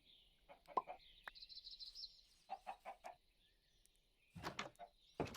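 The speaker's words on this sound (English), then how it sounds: "Chickens are fickle, it seems like." Chickens clucking in a farming game, a series of short clucks in small bursts with pauses between them, plus a brief squawk, fairly quiet against a silent background.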